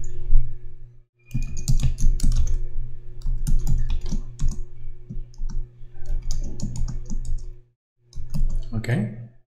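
Computer keyboard typing at close range, with bursts of quick plastic key clicks, brief pauses and a hum underneath.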